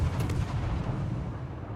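Naval guns fire from a warship in a video game, a low, rumbling boom that rolls on steadily for under two seconds at moderate loudness, with no talking.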